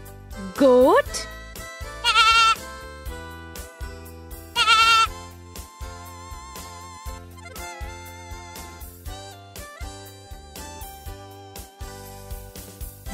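A goat bleats three loud, wavering times close by, followed by quieter intermittent animal noises, with a voice speaking briefly between the calls.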